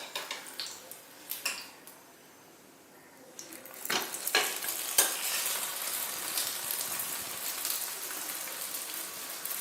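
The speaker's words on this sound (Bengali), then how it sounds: "এক একটা করে পরোটা তেলের মধ্যে দিয়ে ভালোভাবে ভেজে নেব।" Potato paratha fries in hot oil with a steady, bright sizzle that swells louder after a quieter stretch, dotted with occasional spatters and utensil clinks.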